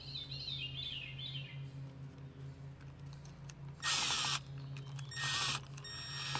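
A power drill drives a screw into a Hayward pool heater in two short, loud whirring bursts, the second briefer. Faint bird chirps come before them in an otherwise quiet outdoor setting.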